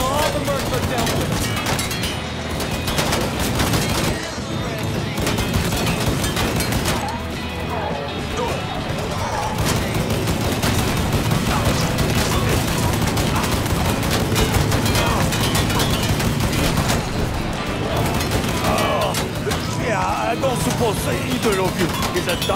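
Sustained gunfire from the Mafia 3 video game, with heavy shots, crashes and booms running continuously and loudly throughout a chaotic firefight, while voices shout over the action.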